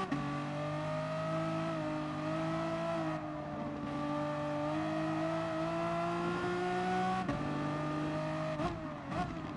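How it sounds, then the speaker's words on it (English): Race cars in Gran Turismo Sport lapping under sustained engine drone, steady revving through corners with gear-shift dips and a brief high tire squeal edge, continuous and fairly loud throughout with no talk. "I don't want to hear that tire squeal."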